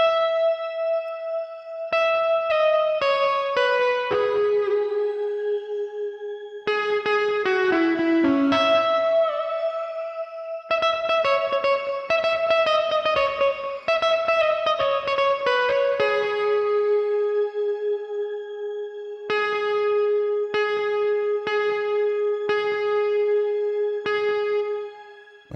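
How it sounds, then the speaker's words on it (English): A music beat built from a plucked melodic synth pattern runs through a shimmer reverb, leaving bright ringing tails and sustained notes between clusters of repeated hits. "Let's add a shimmer reverb."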